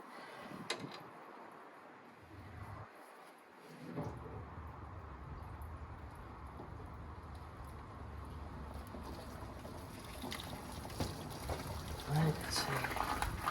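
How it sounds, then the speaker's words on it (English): A garden hose runs water into the coolant system of a Mk1 Ford Fiesta during a flush, giving a steady trickling and gurgling rush that grows louder toward the end while someone talks over it. "got the old garden hose, fill this up"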